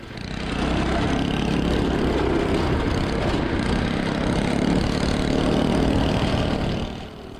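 A homemade full-suspension mini bike's small engine runs steadily and loud throughout, a continuous mid-pitched drone with slight swells as it holds speed on a flat stretch.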